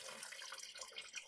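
Water pours into a pot holding gooseberries and sugar for jam, a short, faint, bubbling trickle heard alone.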